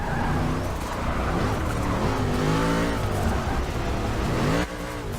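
A 1964 Impala SS with its original 409 motor and original transmission revs and drives in a racing game, a loud continuous engine note with rising and falling pitch and some tire noise.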